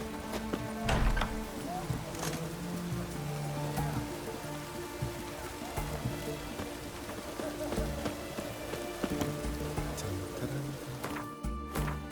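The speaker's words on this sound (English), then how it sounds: "And it's raining again." Soft, steady rainfall patters across a surface in The Witcher 3: Wild Hunt, under a looping game soundtrack, with scattered clicks and faint tones throughout.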